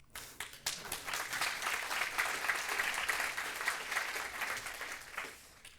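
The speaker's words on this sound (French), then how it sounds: "C'est le moment où on applaudit" Audience applause at a French talk on application security: dense, sustained clapping from a crowd that builds quickly and holds steady, fairly loud, with no talking over it.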